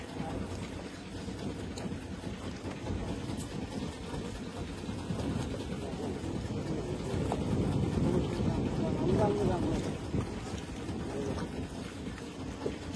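A hired boat travelling on Kaptai Lake in Rangamati, with a continuous low engine rumble, water wash and wind buffeting the microphone throughout, swelling slightly midway, with no voices over it.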